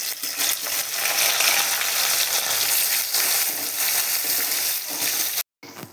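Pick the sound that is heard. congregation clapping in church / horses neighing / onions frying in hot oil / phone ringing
onions frying in hot oil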